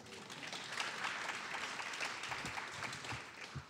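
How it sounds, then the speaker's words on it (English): Audience applause at a speaker series event, a dense, steady wash of many hands clapping at once that holds at an even level throughout, with no talking over it. "you can give her a round of applause."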